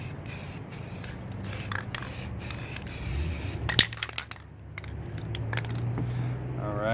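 A spray paint can mists paint to make clouds on a painting, hissing in short close bursts, with a rattle and clicks in the middle before another long spray.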